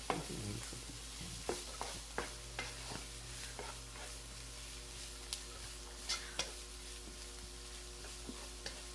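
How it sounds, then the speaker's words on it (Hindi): Chopped onions and green chillies sauté in a pan in a home kitchen, a faint steady sizzle broken by soft, irregular scrapes and taps of a spoon stirring, with no one talking. "cook the onions till they turn translucent"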